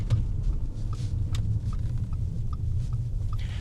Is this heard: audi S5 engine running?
yes